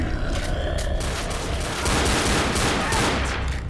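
Heavy gunfire in Left 4 Dead, a loud continuous barrage of rapid shots and booms filling the whole stretch, with no speech over it.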